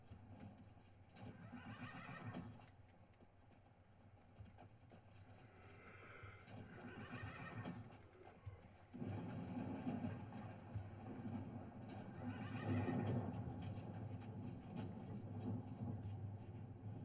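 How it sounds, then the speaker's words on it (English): A horse in an MMO video game neighs several times over steady clip-clopping hooves, the whinnies recurring at intervals against a constant low background hum. "Oh, look, it's a horse."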